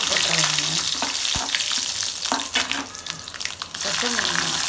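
Dried red chillies frying in hot oil for tomato chutney, a loud, busy, crackling sizzle with occasional clinks and stirring scrapes, close and continuous, easing briefly before swelling again.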